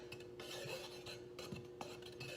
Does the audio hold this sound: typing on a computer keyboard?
no